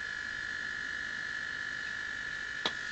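Square wave oscillator circuit buzzing through a loudspeaker, a steady thin electronic tone over hiss with one brief click near the end, faint and alone.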